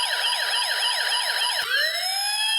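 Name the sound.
fire engine siren sound effect from E-Blox circuit kit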